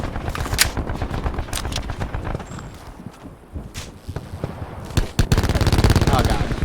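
Gunfire in an online shooter match, with sniper rifle shots among bursts of automatic fire: sharp cracks and rattling volleys, louder and denser toward the end, with a player talking over them.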